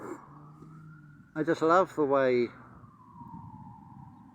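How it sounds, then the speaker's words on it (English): Emergency vehicle sirens wail faintly in the distance, a thin steady tone heard outdoors in wind before and after someone briefly speaks close by. "And, oh, there we go, sirens"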